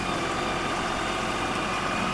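An LS tractor engine runs steadily at a potato harvest, a continuous close rumble with a low throbbing idle that holds an even level throughout.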